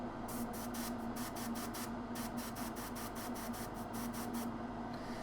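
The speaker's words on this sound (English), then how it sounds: "I'm going to airbrush this on the highlight" An airbrush sprays paint onto a miniature Knight Armiger model, a steady close hiss interrupted by rapid regular pulses of spray bursts over constant background noise.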